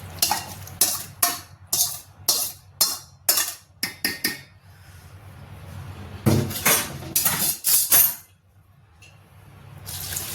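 Sautéed vegetables for vegetable biryani are tipped into a pot of water and stirred, giving a run of sharp metal scrapes and clanks. Then a pause, then another burst of stirring and clatter close by.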